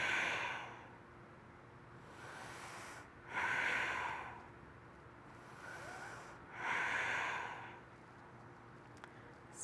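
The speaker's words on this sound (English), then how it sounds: "Breathing." A person breathes slowly and deeply during a yoga moon salutation flow, with three or four long, audible breaths drawn through the nose and released, heard up close and alone against a quiet room.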